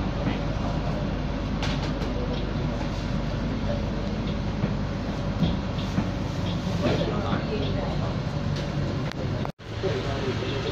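Inside a Singapore MRT train on the move toward Jurong East: a steady low rumble of wheels and motors fills the carriage, with faint clatter and a recorded announcement voice over it, briefly cut near the end.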